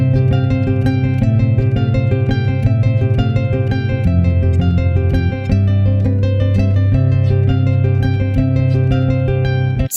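Harp playing a steady rhythmic row of plucked notes with a repeating low pattern beneath, loud and close, with no talking.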